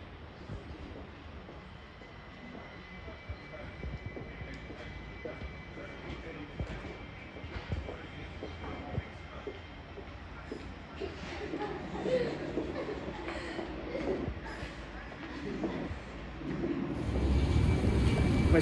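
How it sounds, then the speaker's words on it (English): Low rumbling of a train arriving at Ely station builds gradually, growing louder and nearer toward the end, with faint voices and station ambience. "I'm going to record the train coming in"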